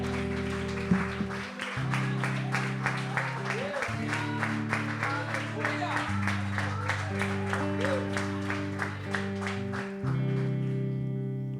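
A church congregation claps in a steady rhythmic beat during a worship service, the claps quiet and regular under continuous sustained music.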